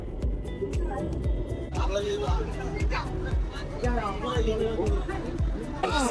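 A dense holiday crowd packs the Bund waterfront in Shanghai during China's national holiday. A constant babble of many voices is interrupted by repeated sharp clacks, and someone talks nearby over the hubbub.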